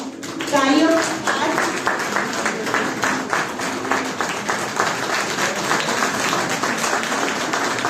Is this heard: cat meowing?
no